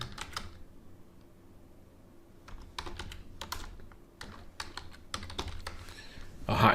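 Keys clatter on a computer keyboard as a title is typed out, light irregular clicks in short bursts with pauses between, fairly close in a quiet room.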